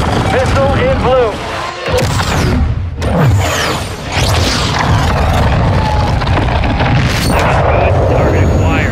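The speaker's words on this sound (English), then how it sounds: "Missile is ready for immediate delivery. Stand by for launch." Missile launch in the Modern Warfare II campaign on Xbox Series X, a loud roaring whoosh and booming blast that fills the clip, with radio voices talking over it.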